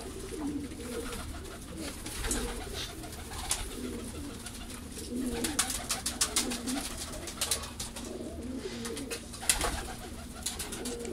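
Pigeons coo in soft, repeated low murmurs close by, with fluttering and scratchy rustles mixed in and a steady background hum.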